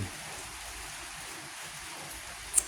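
Steady rain falling outdoors, an even broadband hiss of drops at moderate level throughout, with a brief louder tap near the end.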